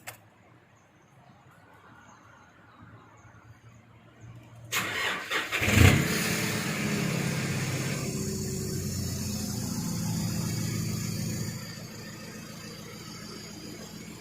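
A Nissan Navara pickup engine cranks and catches, a sharp burst of starter noise followed by a steady, moderately loud idle that settles and continues to the end.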